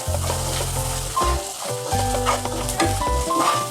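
Cabbage and salt being stirred in a pan for a Nepali-style cabbage curry, with steady scraping strokes over a close, continuous sizzle and no talking.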